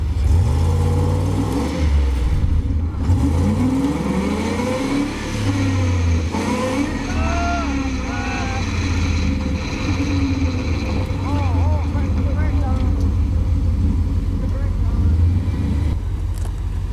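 A truck stuck in the desert ground at Slab City revs its engine hard while its wheels spin, a loud, continuous mid-range roar rising and falling under people talking.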